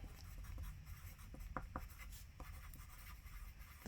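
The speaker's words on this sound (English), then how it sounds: "So finally writing this out," A pen scratches quietly across paper while writing out a physics answer, in a series of short, faint strokes and ticks spaced irregularly over a few seconds.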